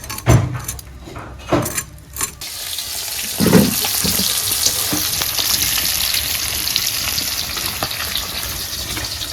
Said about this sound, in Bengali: চালু হয়ে গেছে মাছ ভাজা